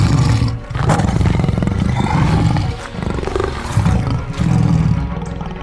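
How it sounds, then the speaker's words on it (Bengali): Two tigers roar repeatedly as they swim across a Sundarbans river toward a boat, deep, loud, rumbling roars that rise and fall in several overlapping bursts with brief pauses between. "দেখা যায় দুটি বাঘ নদী সাঁতরে দ্রুত মদনের নৌকার দিকে ধেয়ে আসছে।"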